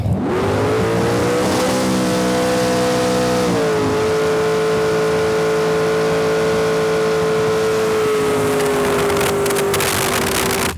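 A drag boat engine roars continuously on an eighth-mile run, its pitch climbing steadily as it accelerates hard, with a steady powerful drone throughout.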